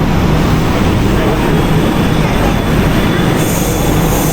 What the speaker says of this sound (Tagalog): Ayan, sasakay na tayo sa tren.